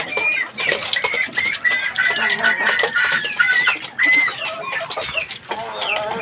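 Gamecock chickens cluck and cackle nearby in a lively, continuous chatter of short, overlapping calls, with a brief crow-like cry among them.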